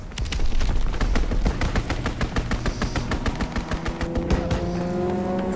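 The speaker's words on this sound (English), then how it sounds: "Strafing run inbound." Strafing run in Call of Duty WWII: loud, rapid machine-gun bursts in a fast regular rhythm, with an engine drone underneath that settles as the fire continues.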